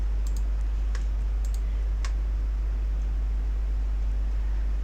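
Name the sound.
mouse click on publish button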